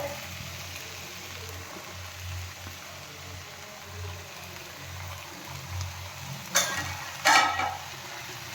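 Grated bottle gourd sautés in a pan with a soft, low sizzle, then two sharp scraping stirs of the spoon come near the end.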